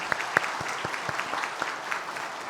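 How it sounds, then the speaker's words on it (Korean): Congregation applauding in church to welcome a new minister, a steady patter of clapping from a moderate-sized crowd with no voices over it. "우리 환영의 박수 드리겠습니다."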